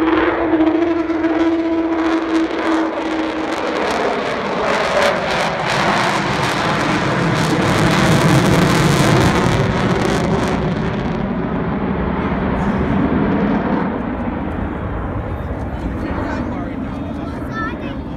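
Avro Vulcan XH558 delta-wing bomber roaring past during an air display at Shuttleworth, a loud, sustained jet engine howl with a high whining tone early on, swelling and then slowly fading, with a voice talking over it.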